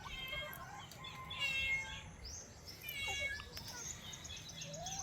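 A farm cat meowing close by in the early morning, with a few drawn-out meows and bird chirps under a faint outdoor background.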